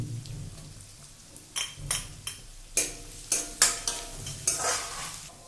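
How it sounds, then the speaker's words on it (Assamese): Onions and whole spices frying in a kadai, with a soft steady sizzle under a series of sharp stirring scrapes and clinks of a spoon against the pan, close by. "পিঁয়াজখিনি অকণমান ফ্ৰাই হোৱাৰ পিছত ইয়াত দি দিম পিচি থোৱা আদা নহৰুখিনি"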